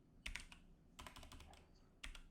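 Short bursts of keystrokes on a computer keyboard, close and fairly quiet, coming in three quick clusters separated by brief pauses, with no voices.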